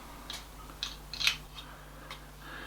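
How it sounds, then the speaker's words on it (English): A small adapter screw is turned into the back of a Polemaster camera, heard as a handful of faint, close metallic clicks and scrapes spread over a couple of seconds against quiet background hum. "So basically you screw that into the hole on the back of here"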